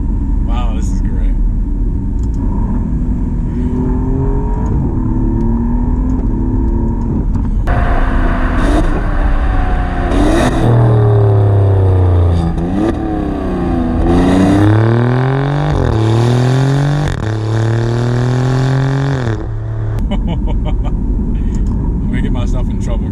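Alfa Romeo Giulia Quadrifoglio engine revs hard up through repeated climbing sweeps with gear-change dips, loud and close from inside the car, over a steady road rumble with a voice heard at the start.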